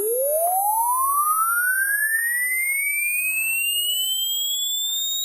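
An undersampled test signal in a lecture on sparse sampling produces a steady pure electronic tone that sweeps smoothly upward in pitch, with faint aliased tones gliding down above it, loud and continuous with no talk.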